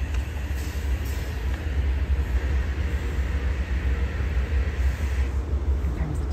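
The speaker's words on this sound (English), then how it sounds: "Here comes the diesel engine." Diesel locomotive approaching on the Amtrak Vermonter at New Haven station, a steady low engine and rail rumble that holds loud and constant throughout with no voices.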